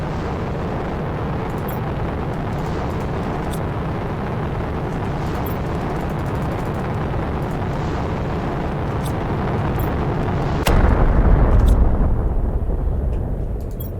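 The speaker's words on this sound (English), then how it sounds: "That was like one explosion." Explosions in the survival crafting game Planet Crafter, heard as a dense, continuous roaring rumble that swells into a heavier low boom near the end, loud and without speech.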